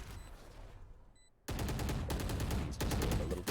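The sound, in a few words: Ghost pistol gunshots in Valorant video game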